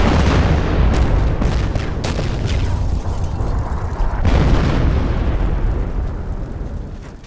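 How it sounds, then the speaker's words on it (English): A German mortar barrage shelling a village during the First World War, loud booming explosions and bursts layered in a dense rumbling barrage that fades slightly toward the end. "A German mortar barrage targets the town, and Walford is wounded by shrapnel."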